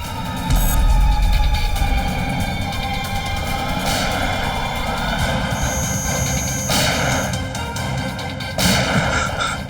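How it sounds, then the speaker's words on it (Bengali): Heavy gunfire rumbles continuously and loudly, dense booming with sharper cracks near the start and again toward the end, set in a tense crime-drama scene with no talking. "গুলি চালানোর আওয়াজ।"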